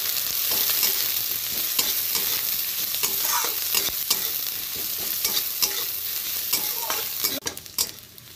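Large chopped onion frying in hot oil, a steady close sizzle with occasional stirring scrapes and clicks of a utensil against the pan, continuing without pause.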